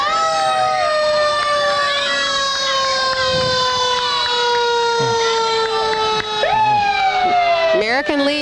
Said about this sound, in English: Now we have a Port Huron fire truck. I think that siren is the swan song.